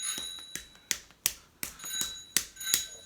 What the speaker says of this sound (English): That was a bicycle bell.